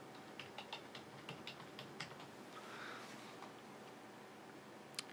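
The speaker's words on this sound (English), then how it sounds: "type in our password." Someone types a password on a computer keyboard while installing an NVIDIA driver on Linux. Roughly a dozen light, faint key clicks come at an uneven pace over a quiet background hum, ending with one sharper tap.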